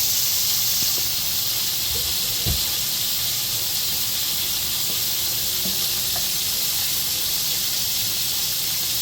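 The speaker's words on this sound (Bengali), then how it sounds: "তো এখন আমি এটা একটু লাল লাল করে ভাজবো।" Potatoes and pointed gourd fry in a pan with a little turmeric, producing a steady, even hiss of sizzling oil with a few faint clicks and no talking.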